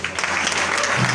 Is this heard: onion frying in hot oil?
no